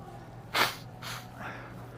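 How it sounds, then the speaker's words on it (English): A person blows their nose close to the microphone: one sharp forceful burst followed by two softer, longer blowing pushes. "I'm gonna blow my nose."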